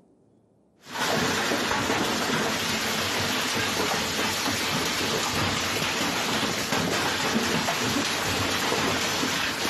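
A violent rainstorm with thunder and hail in Maramureș, Romania, bursts in abruptly after a near-silent second, then roars as a loud, dense, unbroken downpour with rumbling thunder and no voices.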